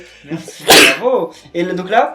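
Someone sneezes once, a sharp burst in the middle of casual French talk among players during a multiplayer session of Kirby and the Rainbow Curse, with speech before and after it.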